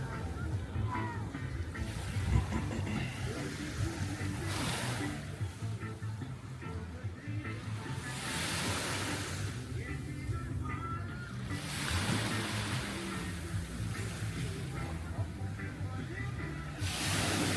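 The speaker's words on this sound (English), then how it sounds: "we're here, laying out, enjoying Emerald Beach" Waves washing ashore on Emerald Beach in St Thomas on a cloudy day, a steady surf wash that rises in periodic hissing swells every few seconds, with faint murmuring voices mixed in.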